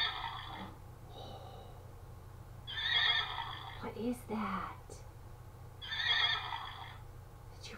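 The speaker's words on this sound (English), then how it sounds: "It's a horse." A horse neighs in three loud, separate whinnies spread over several seconds, and a voice speaks briefly between them.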